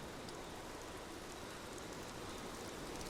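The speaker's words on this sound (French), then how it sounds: "Ah mais il pleut de fou là! C'est vraiment comme dans la vraie vie." Rain pours down in the video game Rise of the Tomb Raider, a dense, even hiss of drops on surfaces that stays steady throughout at low level, alone without speech.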